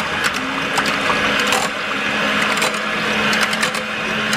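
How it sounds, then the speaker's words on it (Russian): An electric mixer whips cream in a bowl, a steady, close motor whir with rattly, buzzing texture and slight surges, running continuously without speech. "Так, взбиваю сливки."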